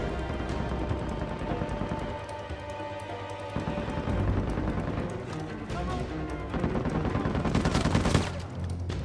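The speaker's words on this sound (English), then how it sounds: "Literally shooting me through rocks." Dense, continuous gunfire in the video game Uncharted 4, rapid bursts and volleys layered over a booming combat mix, with a voice briefly talking.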